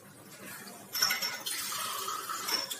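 Water pours quietly into a pot of vegetables, a soft running splash that starts after a brief pause and continues with slight surges, with no talking.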